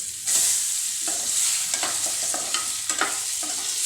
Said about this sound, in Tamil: அதுக்காக தான் வந்து முட்டையை ஃப்ரை பண்ணுறேன், லைட்டாக ஃப்ரை பண்ணுறேன்.